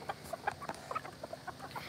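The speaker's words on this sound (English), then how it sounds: "It's a pretty rooster." Young Ameraucana rooster, a chick hatched this year, giving a run of soft, quick clucks close by, about a dozen short calls spread evenly over two seconds with no voices.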